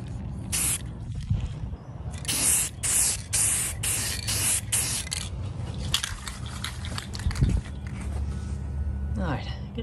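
Repeated short bursts of aerosol spray paint hiss loudly as coats are applied to a restored 1934 U.S. Tool Company Commander drill, irregular close-up blasts with brief gaps between them.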